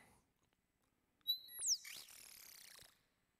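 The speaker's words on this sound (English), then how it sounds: "we're going to want to have more bird tweets going on because there's a lot of action happening there" Synthesized bird tweets for a scene in The Crimson Diamond adventure game: a few bright, sharp chirps and sweeping whistles arrive close together after a short silence, layered over a soft fluttering bed that fades out.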